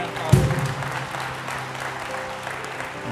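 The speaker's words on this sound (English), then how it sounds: "applause." Church congregation applauding during a Sunday children's special service, a dense wash of clapping that starts with a sharp thump and stays steady across the clip, with no talk over it.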